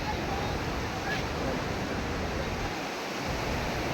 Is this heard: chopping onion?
no